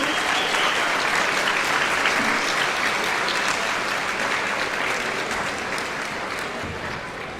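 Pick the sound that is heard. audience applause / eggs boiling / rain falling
audience applause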